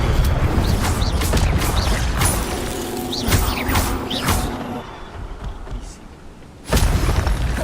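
Incendio fire spell cast in the Hogwarts Legacy video game, a run of whooshing magical bursts and crackling impacts over a rumbling game soundscape, a brief lull, then a fresh loud burst at the end.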